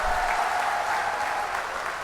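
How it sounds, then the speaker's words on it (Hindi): Crowd at a Congress political rally for a candidate's nomination in Rajasthan applauds loudly and steadily, a dense wash of clapping lasting the whole stretch without talk. "तो जोरदार ताली हमारे उम्मीदवार करण सिंह जी के लिए बजा दो एक बार"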